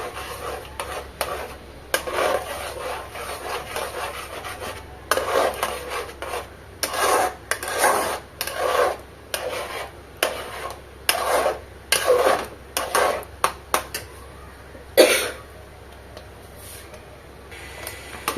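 Raw mango pulp boiling in a pan for amsotto, stirred with a spatula in repeated scraping, rasping strokes at an uneven rhythm, close and fairly quiet over a faint bubbling hiss.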